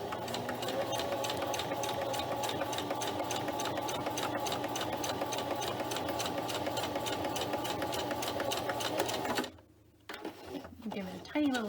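A sewing machine running Tex 35 thread stitches glitter HTV onto a shoulder bag tassel: a fast, steady mechanical whirr close up for about nine seconds, then it stops for a quick back stitch with brief clicks.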